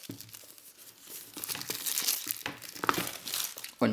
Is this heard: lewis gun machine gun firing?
no